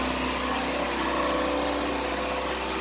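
The 2.5-liter four-cylinder engine of a 1989 Chevy Celebrity idles high while still cold after a fuel filter replacement, giving a steady, unbroken drone with no talking over it.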